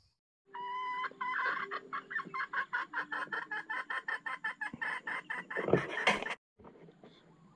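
A bird in oil palm country, likely a jungle fowl or a chicken, gives a long run of rapid, rhythmic clucking calls, fairly close and alone, ending in a louder burst and a few fainter sounds.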